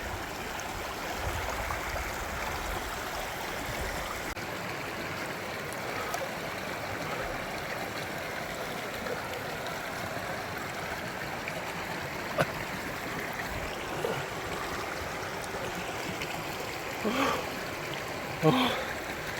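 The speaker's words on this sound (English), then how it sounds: "we made it all the way down to the river." A river rushes steadily beside a hiking trail in the Jemez Mountains, a continuous, fairly loud broadband wash of flowing water with a few faint splashes and knocks near the end.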